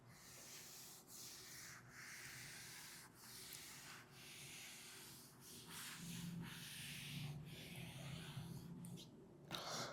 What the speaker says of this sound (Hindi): रब कर दूं।